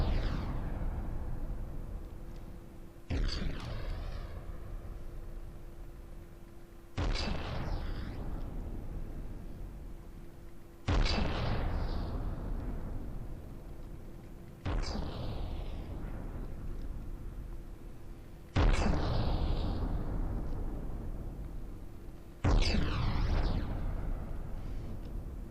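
Big 50cm main guns firing in the video game From The Depths, seven heavy booming shots at steady intervals of about four seconds, each blast rolling off into a long fading rumble beneath a constant low hum.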